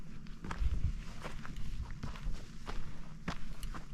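Heavy footsteps crunch steadily along a hiking trail near an old homestead site, stomped deliberately hard to scare off rattlesnakes, close and fairly loud with a dense, low thudding rhythm.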